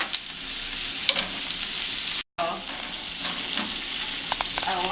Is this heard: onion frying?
yes